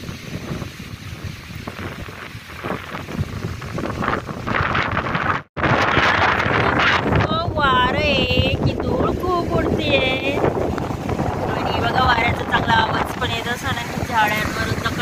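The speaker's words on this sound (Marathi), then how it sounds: "झाडांवरून तर कळतच असेल किती वाऱ्याचा जोर आहे." Strong, gusty pre-monsoon wind blows through trees outdoors, a loud continuous roar and buffeting on the microphone with one brief drop, while a voice speaks over it.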